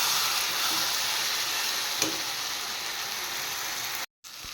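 Vegetables stir-fry in a paste of garlic, onion and dried chili, filling the space with a loud, steady, close sizzle and faint stirring scrapes, broken only by a brief silence near the end.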